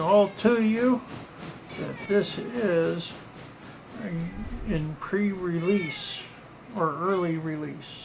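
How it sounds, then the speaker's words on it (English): A cat named Bandit meows repeatedly, drawn-out attention-seeking cries coming in several bursts while someone talks over them nearby. "if you hear the cat crying"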